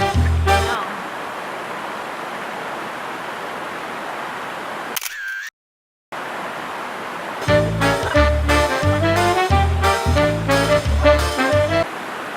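Steady broadband rush of water from a tall waterfall fills the first few seconds, followed by a short silence, then rhythmic music over the continuing background.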